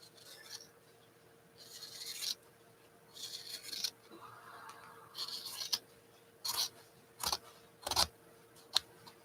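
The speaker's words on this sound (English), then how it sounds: "I'm going to cut some narrow pieces." Narrow pieces of material are cut with a series of short rasping snips and rubbing strokes, close and fairly quiet, growing into sharper, more frequent cuts toward the end.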